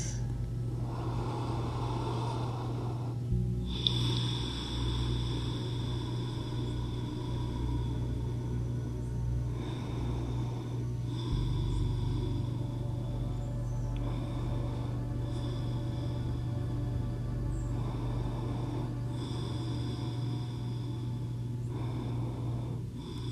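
Slow, deep breaths drawn in and let out while resting in the sleeping swan yoga pose, soft and close over a steady low background hum, with no talking.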